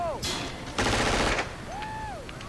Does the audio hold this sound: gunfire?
yes